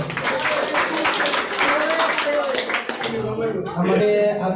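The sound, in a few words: audience clapping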